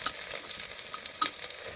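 Onions fry in hot oil while being stirred, a steady close sizzle broken by a few scraping stirs of the utensil against the pan.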